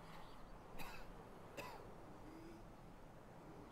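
Character coughing in the video game Escape from Tarkov: two short, soft coughs spaced under a second apart over quiet background, faint and close.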